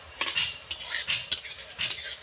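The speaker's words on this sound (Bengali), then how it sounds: "এরপর খুন্তি দিয়ে একটু এইভাবে নাড়িয়ে নেব" A metal spatula scrapes and clinks against a pan while semolina is stirred, giving a series of close, rhythmic scraping strokes with a faint sizzle between them.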